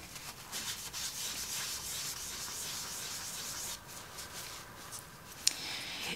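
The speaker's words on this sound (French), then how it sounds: "Je peux tout à fait venir avec un papier mouillé, venir complètement effacer" Wet paper rubs over gouache paint to lift and erase it, a soft continuous scrubbing hiss that stays fairly quiet, with one small sharp tick near the end.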